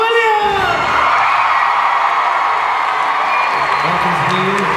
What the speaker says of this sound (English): can you please give a fantastic round of applause for